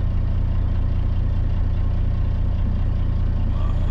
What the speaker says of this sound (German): Ich lasse jetzt noch den Motor ein bisschen abkühlen, bevor ich ihn abschalte.